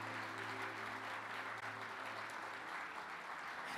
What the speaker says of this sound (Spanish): tú deberías darle un aplauso más fuerte al Señor en el día de hoy